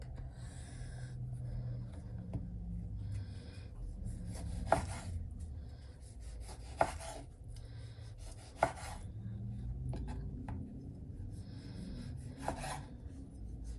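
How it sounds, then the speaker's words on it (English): A knife cuts a San Marzano tomato on a cutting board at a garden-harvest taco prep, giving soft, irregular slicing and scraping strokes with a few sharper taps, quiet and close. "we're just gonna cut our tomato"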